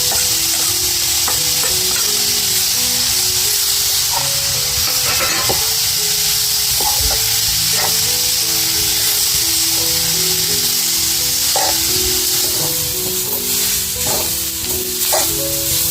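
Taklya wild greens and grated coconut stir-frying in a pan, with a steady loud sizzle and hiss throughout and repeated scraping, clinking strokes of a spatula stirring the mix, no voices.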